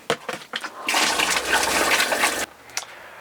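An Airstream Caravel travel trailer toilet flushes in one loud rushing burst of water lasting about a second and a half, with small clicks and handling noises before and after.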